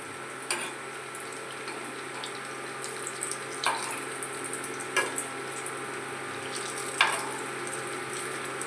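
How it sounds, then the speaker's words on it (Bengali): Sweet potato puli fry in hot oil with a steady soft sizzle, broken by a few louder pops and spits every second or two, heard alone without talk. "ভালো মতো ভাজা হচ্ছে"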